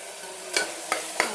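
Methi pulao with fenugreek leaves is stirred in a pan, three short scraping strokes of a spoon over a soft background sizzle, close and moderately loud.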